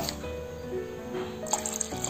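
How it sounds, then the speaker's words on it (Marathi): Water is poured little by little into jowar flour dosa batter while it is mixed, giving soft drips, small liquid splashes and light squishing, close and quiet, with no voices. "थोडं थोडं पाणी ओतत हे मिश्रण मिक्स करत जायचं आहे"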